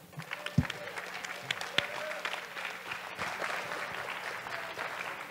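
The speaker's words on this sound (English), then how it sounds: "Everyone give him a round of applause." Audience at a startup pitch night applauds as a presenter comes up, moderate clapping with a few sharp claps and crowd murmur, voices audible through it.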